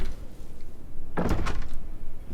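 A door opens or closes in a spooky adventure video game, heard as a single loud thunk with a short rumbling rattle that sits over steady background ambience.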